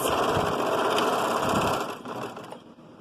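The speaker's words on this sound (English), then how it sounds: "That is how you do a serge seam." A serger stitches and trims a seam on fabric with a fast, close mechanical whir that runs steadily and then winds down near the end.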